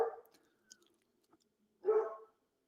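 Dogs barking nearby, with two short barks separated by a pause and faint small noises in between.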